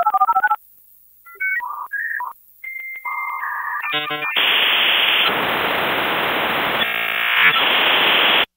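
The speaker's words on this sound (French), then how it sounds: "quand tu te connectais à Internet, ton modem faisait ce bruit-là" A 56K dial-up modem connecting to the Internet: a short burst of dial tones, then beeps and chirps give way to loud, harsh hissing static and screeching handshake noise that runs to the end without any talk.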